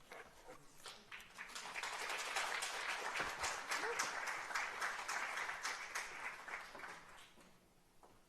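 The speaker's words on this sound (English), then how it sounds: "If we could have another round of applause" An audience at a book reading breaks into sustained applause, dense clapping that swells within a couple of seconds, holds steadily for several seconds, then thins out toward the end.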